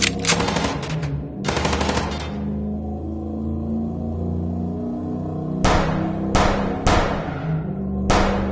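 Gunfire in the video game Chicken Police, sharp bursts of rapid shots in separate volleys spread over several seconds, with a low engine rumble continuing between them.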